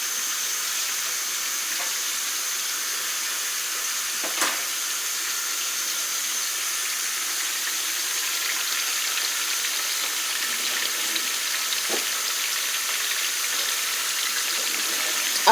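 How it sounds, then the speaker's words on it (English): Tap water runs steadily over chicken drumettes in a kitchen sink, a continuous moderate hiss and splash with a few small knocks, no talking. "Rinse this off."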